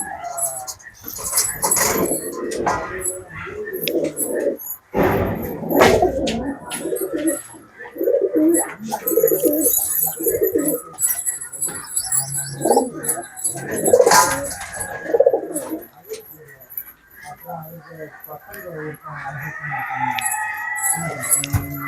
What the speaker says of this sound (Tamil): இதெல்லாம் ஜாக்லவர் லைன் புறா